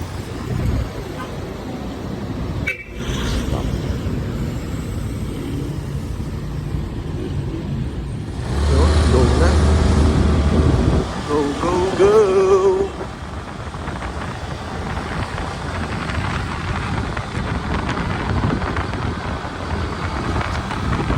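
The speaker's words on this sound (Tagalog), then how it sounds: "sa traffic na mabagal na ang daloy ng mga sasakyan" Slow-moving road traffic passes along a town street, a constant engine and road rumble with wind buffeting the microphone, a louder vehicle surge in the middle, and a person talking over it.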